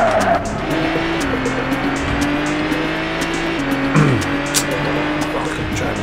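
A car from The Getaway video game roars along the road with a steady, loud engine drone, tires squealing and skidding as it swerves, with engine pitch shifting through gears.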